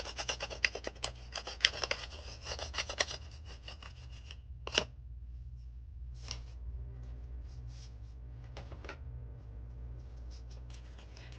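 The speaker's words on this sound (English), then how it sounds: "I like to find my scraper and just scrape them off all at once." A scraper scrapes stuck pieces off a craft work surface, a faint, close run of uneven scratchy strokes that thins into sparse scrapes over a low background hum.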